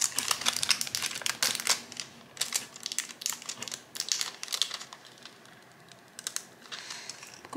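Thin plastic film crinkles and crackles in quick, irregular bursts as it is handled up close while a diamond art canvas is prepared, with no talking.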